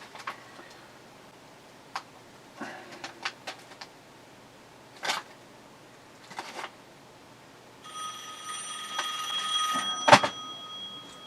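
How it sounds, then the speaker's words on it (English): A telephone rings in a room, with a tonal electronic ring starting partway through and continuing to the end, preceded by scattered ticks and clicks, all fairly close and without speech. "Fucking phone rings while the camera's on."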